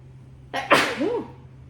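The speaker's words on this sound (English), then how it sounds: "I just had a little sneeze, guys." A single close sneeze, one quick sharp burst with a short voiced tail, set against a faint low hum while someone unboxes dusty collectible toy boxes.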